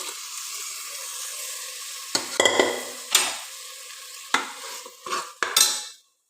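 Cooked toor dal goes into a hot pan with a steady sizzle of frying, then a spoon scrapes and stirs in several sharp, uneven strokes before the sound cuts off.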